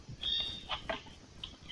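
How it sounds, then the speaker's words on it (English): A pet bird gives a few sharp, high-pitched squawks and chirps in the background, short scattered bursts at moderate distance with no speech. "sorry if you can hear my bird screaming in the background"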